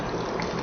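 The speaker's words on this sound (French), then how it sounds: "Je vais renverser cette eau, passer dans le gobelet" Alkaline water is poured into a cup, giving a short, close, steady gush of liquid with no voices.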